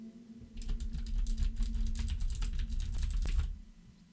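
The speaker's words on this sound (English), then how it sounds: "this is a keyboard that uses Cherry MX Blue switches, so the loudest of them all" Rapid, even typing on a Cherry MX Blue mechanical keyboard, with sharp clicky keystrokes for about three seconds over a low hum, fairly quiet and with no voices.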